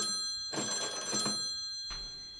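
An old-style telephone bell rings in two bursts, the first longer and the second short, fairly faint against a steady background hum, with no talk.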